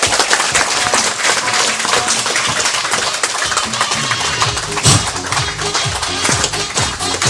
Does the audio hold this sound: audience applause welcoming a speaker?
yes